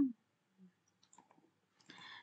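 A computer mouse clicks a few times, faint and sparse, during data entry in accounting software, and a voice starts speaking near the end.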